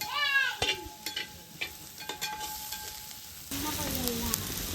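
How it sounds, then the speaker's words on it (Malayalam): Chopped green chillies being stirred and sautéed in a pan during village-style Kerala duck roast cooking, quiet scraping and clinks of a spoon at first, then a louder sizzle swelling near the end, with a brief cat-like meow early on. "എന്നിട്ട് കുറച്ച് പച്ചമുളക് നടുവിൽ അരിഞ്ഞതാട്ടാ, അതിട്ടൊന്ന് ഇളക്കി കൊടുക്കാം."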